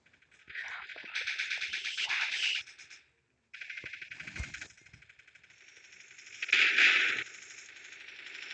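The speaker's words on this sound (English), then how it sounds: "People with machine guns. M60s." M60 machine guns fire in the mobile shooter Bullet Force as several rapid, rattling bursts, with a short pause between them and a louder surge near the end.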